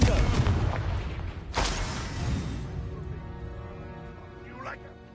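A Confringo blasting spell goes off in Hogwarts Legacy, a booming explosion opening loud and low, followed by a second sharp blast that decays into a rumbling tail and a faint magical shimmer.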